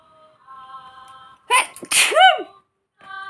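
One sharp, loud sneeze bursts out close by, set between stretches of steady tonal background sound.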